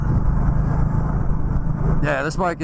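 Steady, loud engine rumble and wind from a 2020 Indian Scout Bobber Sixty cruiser motorcycle while riding, with someone talking over it near the end.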